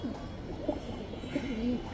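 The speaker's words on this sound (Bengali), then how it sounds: "এই যে মনি একটা মাদি কবুতর" A female pigeon of the Moni breed, a talking-parrot-shaped hen, coos at a pigeon seller's stall. The coos come in a few short, soft, rounded bursts over a low, steady background murmur.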